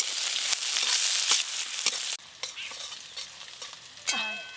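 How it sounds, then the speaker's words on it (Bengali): Chopped onions frying in mustard oil with black cumin, a steady loud sizzle with stirring scrapes that drops quieter partway through, ending with a brief clatter. "পেঁয়াজগুলো একটু ভালো করে ভাজা ভাজা হয়ে গেছে"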